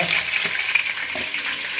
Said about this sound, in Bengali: তো মাছগুলো একটু কড়া করে ভাজছি